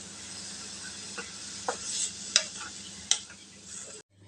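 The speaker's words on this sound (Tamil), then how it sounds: "வெங்காயம் நல்லா வதங்கட்டுங்க." Onions with curry leaves sauté in a pan, a soft continuous sizzle punctuated by a few scraping stirs of a utensil, then the sound stops abruptly near the end; no voices.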